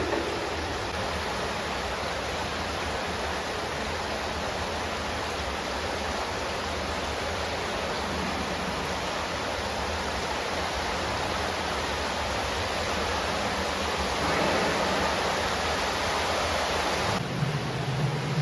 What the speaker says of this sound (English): there's a massive echo in here